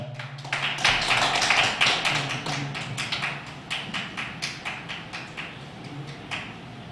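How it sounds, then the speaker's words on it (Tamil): Applause from an audience at an astrology society event: a crowd clapping loudly at first, then thinning into scattered, uneven claps with a tapping quality, with no voices over it. "உங்களுடைய உற்சாகமான கைத்தட்டலோட"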